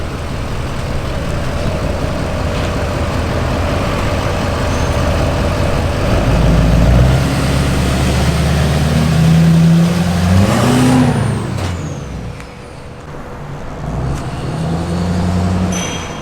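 A truck engine idles close by, then revs and pulls away out of an alignment shop, the motor rising and falling as it drives off.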